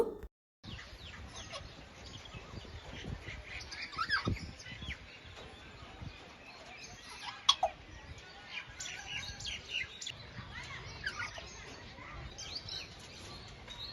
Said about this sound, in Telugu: అన్ని రకాల పక్షుల్ని ఇలాగా పెద్ద పెద్ద రూమ్స్లో పెట్టారు.